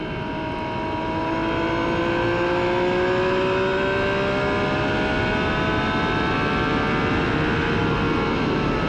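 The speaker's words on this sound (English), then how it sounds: "You can hear the Menard engine doesn't turn the RPM that the Ford Cosworths turn." A 1996 IRL IndyCar Menard engine at Phoenix drones loudly at high revs, its pitch climbing slowly and holding, with a continuous broadband roar underneath.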